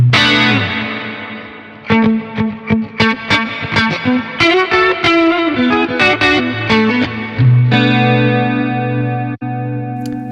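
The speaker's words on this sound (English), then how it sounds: "Arena reverb." A distorted electric guitar plays chords and picked notes through the arena reverb of a Zoom MultiStomp MS-70CDR pedal, the big, spacious reverb making notes ring and trail off like in a large hall.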